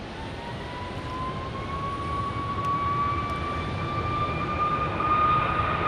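An Air Canada airliner at Phoenix Sky Harbor airport gives off a steady, broad engine roar with a rising whine. The sound grows slowly louder over several seconds.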